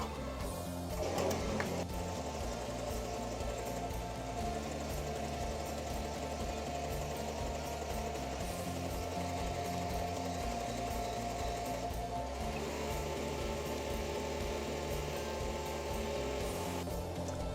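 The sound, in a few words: embroidery machine stitching a snowman patch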